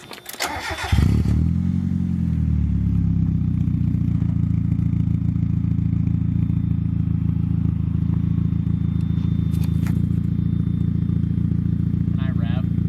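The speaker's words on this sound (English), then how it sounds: "Do I start it? Yeah." Mazda Miata with a big aftermarket exhaust cranking briefly, then catching and settling into a loud, deep, steady idle rumble that runs on, with a couple of faint knocks or clicks in the background.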